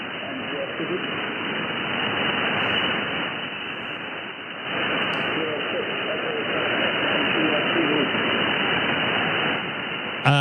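An amateur radio station comes through an Icom transceiver as a faint calling voice buried in steady hiss and static, band-limited and continuous, with a brief click at the end.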